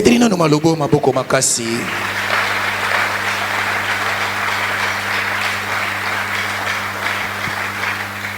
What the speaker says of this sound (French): Et on peut acclamer pour lui.